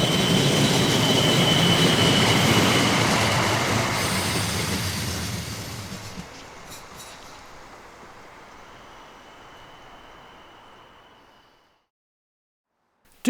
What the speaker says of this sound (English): unit number 645304 arrives with a train from Prague Hostivar